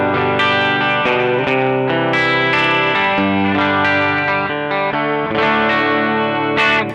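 Electric guitar played through a NUX Cerberus straight into the amp, with a light stereo chorus and amp reverb, rings out in sustained, shimmering chords and picked notes, loud and continuous with no talking.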